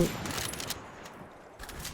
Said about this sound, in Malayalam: ഞെക്കി പിടിച്ചോണ്ടിരുന്നോണ്ട് വെടിയും പൊട്ടി